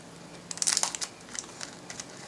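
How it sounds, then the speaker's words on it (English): Plastic screen-shield packaging crinkles and crunches as scissors work through it. Several close, sharp bursts of rustling come in quick irregular clusters over a quiet background. "So take the scissors."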